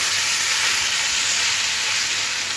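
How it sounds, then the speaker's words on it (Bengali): Potatoes and beetroot fry in a pan with a loud, continuous bright sizzle and hiss, close up and steady from start to finish. "নিয়ে এইভাবে আলু আর বিটটা খুব ভালো করে লাল লাল করে ভেজে নেব।"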